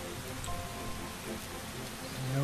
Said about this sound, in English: Oh wait, it's raining.